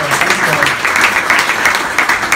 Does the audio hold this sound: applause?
yes